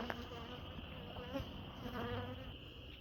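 Honeybees buzzing in a dense, steady swarm around hives while a beekeeper combines weak colonies into Root-style boxes, a continuous close drone with shifting pitch and no talking.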